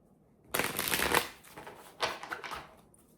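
Two quick rattling bursts of a deck of cards being shuffled, close and crisp, the first longer than the second, with quiet pauses around them.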